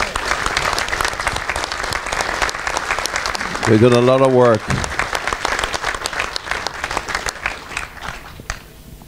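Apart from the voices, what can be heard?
audience applause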